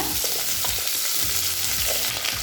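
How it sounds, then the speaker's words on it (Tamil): Medium pieces of peeled, seeded pumpkin sautéing in a pan, a dense continuous sizzle with stirring scrapes, close and loud, no speech. "இப்போ நல்லா வதக்கிக்கலாங்க"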